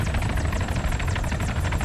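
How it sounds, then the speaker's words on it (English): A Mi-24 helicopter in the Arma 3 video game flies close and loud, its rotor thumping in a steady, rapid pulse over a dense low engine roar that holds throughout. "it seems like we've got helicopters that are coming in to try and search the area for any potential survivors"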